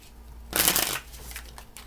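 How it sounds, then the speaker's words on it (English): A deck of tarot cards is riffled in one quick close shuffle, a crisp fluttering burst lasting about half a second, then softer settling rustles. "2 more shuffles."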